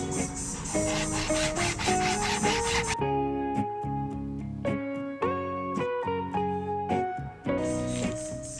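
Bamboo being hand-sawn into 3-inch pieces, a close scraping rasp of repeated strokes with a short pause partway before the sawing resumes.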